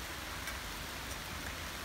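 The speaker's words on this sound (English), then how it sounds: "like a nice rain" Rain falls steadily on an allotment plot during a thunderstorm, a dense, even hiss of drops on surfaces throughout.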